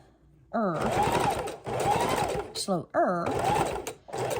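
A sewing machine runs a straight stitch at moderate speed in several loud, steady whirring bursts with brief stops between them. A voice talks in the gaps.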